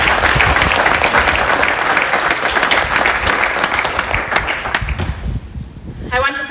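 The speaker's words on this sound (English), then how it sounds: "they absolutely deserve a round of applause" An audience at a wastewater treatment facility ribbon cutting gives wastewater operators loud, sustained applause. The applause thins out near the end as a voice begins to come through.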